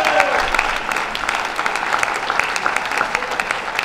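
Sustained applause from a keynote audience at an Orthodox Union West Coast event, dense steady clapping filling the room for the full few seconds with no voices over it.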